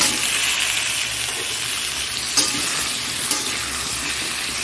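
Potatoes, chillies and papaya hit a pan of fried onions and sizzle loudly and evenly, a steady hiss with a couple of faint utensil clicks.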